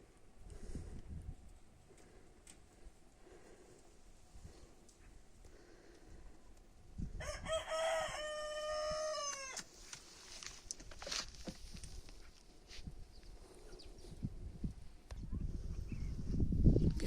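In a quiet outdoor farm setting, a rooster lets out one long crow midway, with faint shuffling and scattered chicken and goose noises around it.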